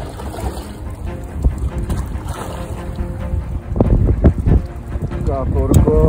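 Wind blowing hard across Lake Balaton during a carp fishing trip, a steady broadband rush with gusting buffets against the microphone that swell louder toward the end.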